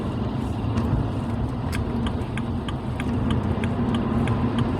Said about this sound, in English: sorry for the noise, I'm on the highway now.